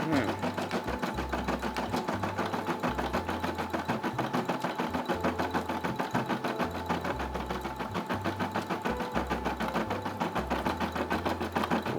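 A Brother SE600 embroidery machine stitches out a Tommy Hilfiger logo with a steady, rapid mechanical rhythm and a repeating low thump pattern, running continuously close up.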